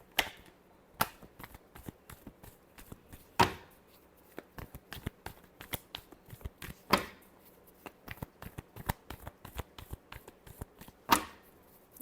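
Tarot cards being shuffled, a long run of sharp, quick riffling snaps and taps close by with a few louder slaps, no talking.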